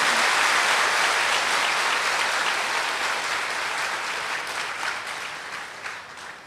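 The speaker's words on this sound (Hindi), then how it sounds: "जोर से ताली बजाएं।" Loud, dense audience applause at a spiritual gathering, sustained clapping from a large crowd that slowly tapers in volume.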